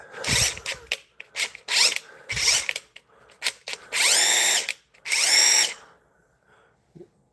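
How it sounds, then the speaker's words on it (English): A handheld two-speed power drill whirs in short bursts, several quick triggers followed by two longer sustained runs with a rising whine, close and loud, with no talking. "Just 2 speeds on the drill."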